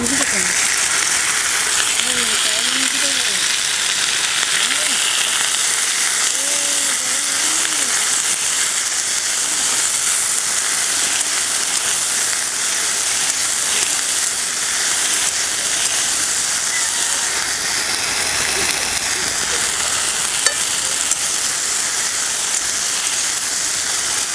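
Fresh okra roasting in hot oil in a pan, a continuous loud sizzle and hiss with no break, close up.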